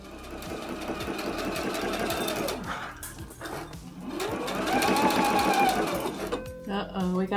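A sewing machine runs in steady rapid bursts while stitching a collar, its mechanical whir pausing briefly and starting again, close and loud.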